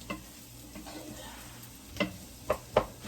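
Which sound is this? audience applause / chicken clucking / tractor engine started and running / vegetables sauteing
vegetables sauteing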